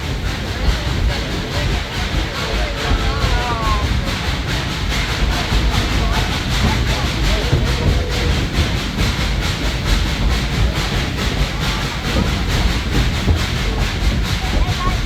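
A tourist train on a mountain railway in East Tennessee runs steadily along the rails with a continuous rumble and faint rhythmic clatter, heard close and unbroken while people talk over it.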